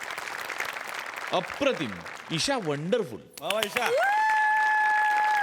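An audience at a Marathi comedy show applauds in a soft wash of clapping beneath a man's enthusiastic speech, then a steady electronic tone takes over near the end.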